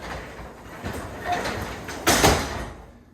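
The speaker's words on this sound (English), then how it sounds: "I was able to lift up this door completely open with ease with my non-dominant hand." A garage door is lifted open by hand at close range, its panels rolling and rattling in a rising run, then a louder clunk near the end as it reaches the top.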